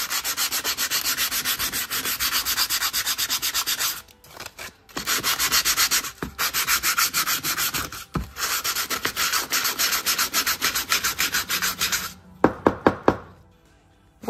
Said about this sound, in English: So I'm going to rub the board with the sandpaper.